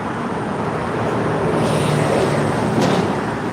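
Busy road traffic makes a broad, continuous roar close by, with passing vehicles swelling slightly in a dense wash of noise and no voices.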